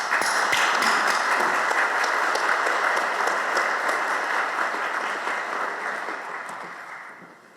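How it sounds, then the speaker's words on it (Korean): Ceremony audience applause at a university founding anniversary event, a loud, dense burst of clapping that holds steady and then tapers off toward the end. "큰 박수로 맞아주시기 바랍니다."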